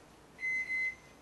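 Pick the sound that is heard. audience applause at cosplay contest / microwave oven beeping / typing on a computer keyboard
microwave oven beeping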